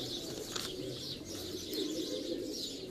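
Pigeons coo and call on a rooftop during a one-day pigeon-racing tournament, with soft bird calls and occasional flutter over a steady outdoor hum, at moderate distance.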